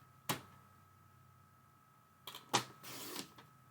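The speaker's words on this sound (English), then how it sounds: "This trimmer might have a better blade in it" Paper trimmer blade slicing through card stock during papercraft, a sharp click near the start, then after a pause a quick scrape, a snap and a brief sliding cut, close and fairly quiet.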